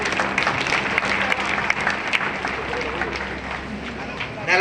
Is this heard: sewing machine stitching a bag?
no